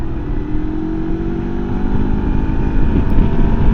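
A MUTT Stravaig 401 motorcycle accelerating while being ridden, heard as a loud, steady engine drone that rises slightly in pitch, mixed with rushing wind noise.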